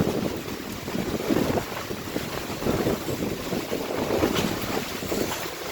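Strong typhoon wind and rain from Typhoon Kristine roar over floodwater in a constant, loud, blustery rush with gusts buffeting the microphone, no voices.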